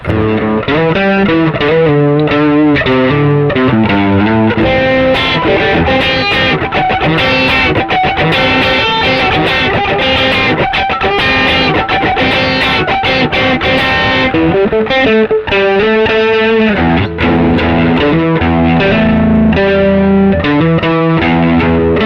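Heavily distorted electric guitar through an Azor AP-506 Snake Distortion pedal plays chords and riffs continuously, loud and gritty, with no voices.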